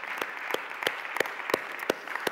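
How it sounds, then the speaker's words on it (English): A church congregation gives a hand clap of praise: sharp, separate claps ring out at a steady beat of about three per second, close and fairly loud, with no voices over them. "Give God a hand clap of praise."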